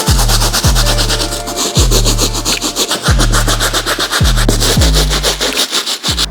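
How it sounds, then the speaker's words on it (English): Hard bristle brush scrubbing the outsoles of Air Jordan 13 Retro sneakers, close and loud rasping strokes in a steady back-and-forth rhythm, roughly one stroke every second, with no talk. "So we're gonna use our hard bristle brush."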